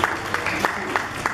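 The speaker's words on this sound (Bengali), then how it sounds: "সবাই জোরে হাততালি দেবেন প্লিজ" Audience clapping at a Bengali New Year prize announcement, with sharp claps landing in a regular beat about every third of a second over a continuous murmur of talk.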